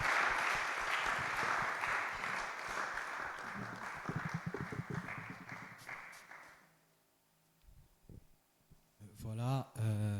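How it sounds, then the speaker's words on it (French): Warm audience applause at a church panel event on spiritual gifts and ministry: dense, loud clapping that thins into scattered claps and fades out, followed by a speaker beginning to talk. "sous encore vos chaleureuses acclamations"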